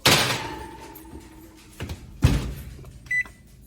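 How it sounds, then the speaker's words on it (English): A baking dish slid into a kitchen oven, followed by a solid thud of the oven door closing and a short beep near the end, with quieter handling sounds between. "Put it in the oven"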